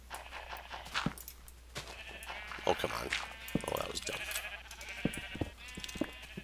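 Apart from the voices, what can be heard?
sheep bleating on a sheep farm in the video game Minecraft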